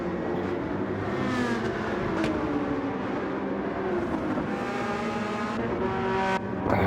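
Several race cars in a racing video game roar continuously at close range, with engine pitch sweeping up and down as they accelerate and shift, loud and steady throughout with no talking.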